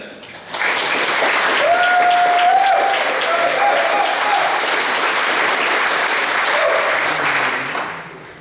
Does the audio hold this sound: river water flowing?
no